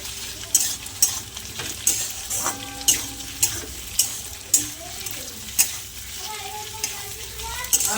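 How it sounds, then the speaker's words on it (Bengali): Soya chilli and chopped green chillies are stirred in a pan over a steady sizzle. Regular spatula knocks and scrapes strike roughly every half second to second, close and clear, with no talk. "এবারে একটু ভালো করে নেড়ে নেবো।"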